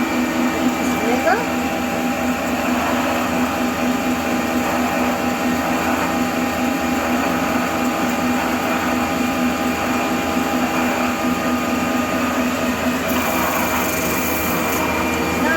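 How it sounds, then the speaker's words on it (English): A steady, continuous whir of a power grinder or sander working on a shoe heel during a repair at a repair festival, running loud and unbroken throughout with faint voices underneath. "the last step is just to grind this bit here"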